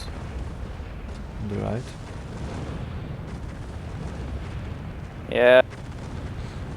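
Cannon fire in the real-time strategy game Earth 2150 during a 2v2 tournament match, two short booming bursts a few seconds apart under steady game noise, while casters talk over it.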